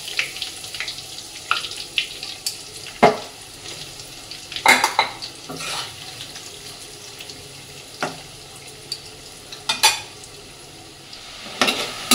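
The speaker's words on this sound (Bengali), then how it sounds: "এই যে ছান্তা দিয়ে আলুগুলো আমি ভেজে নেবো।" Potatoes frying in hot oil in a wok, turned with a metal spatula: a steady low sizzle runs throughout, broken by sharp scraping clatters of the spatula against the wok at irregular intervals.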